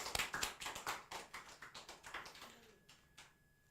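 A small church congregation claps briefly, a dozen or so distinct sharp claps in quick irregular succession that thin out and fade after about three seconds.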